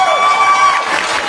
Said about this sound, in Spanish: por favor, un gran aplauso